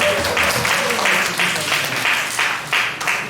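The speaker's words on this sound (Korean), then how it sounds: "박수 한번 치도록 하겠습니다" Applause from a youth congregation at a Korean high school Sunday worship service, a short steady burst of group clapping that fills the room, with some voices mixed in.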